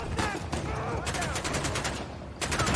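Gunfire in the Baldur's Gate 3 video game comes as two bursts of rapid crackling shots separated by a short lull, fairly loud and close.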